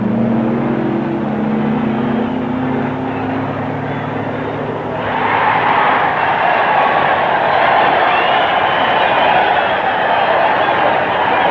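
Several 1965 drag racing cars launch down the strip, including a red coupe and a Stone, Woods and Cook car, with a steady loud engine roar that surges and broadens about halfway through.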